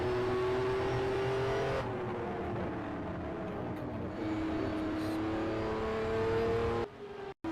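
Onboard engine of the number 11 Ferrari 512 BB LM in a sim racing historic sportscar race at Lime Rock, a loud steady engine drone rising and falling in pitch through gear changes, cutting out briefly near the end.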